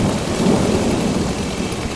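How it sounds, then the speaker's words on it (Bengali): Heavy rain pours steadily with a low rumble of thunder underneath, a dense, loud and continuous wash of sound used as an effect in a horror audio story, with no speech. "প্রচন্ড বৃষ্টি নামে।"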